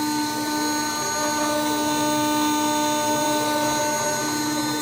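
A power tool trims excess epoxy off a guitar fretboard during a build, making a loud, steady high-pitched whine with a constant buzzing drone and no break, and no talking.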